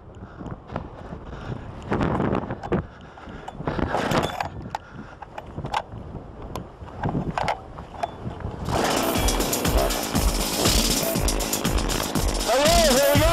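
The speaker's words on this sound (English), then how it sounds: "we're about to drill a nice 10-inch hole with our new Inch Ice Auger" A Husqvarna-powered ice auger drills a 10-inch hole in lake ice outdoors. Wind buffets the microphone at first, then the small engine bursts into a loud, steady, rough roar that carries on through the second half.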